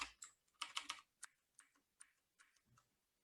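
Someone types a curl command on a computer keyboard, producing soft irregular key clicks in short bursts, close and quiet.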